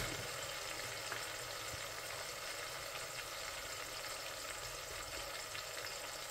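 Tomatoes and chillies frying in a pan, a steady, faint sizzle with fine crackling throughout and no voices.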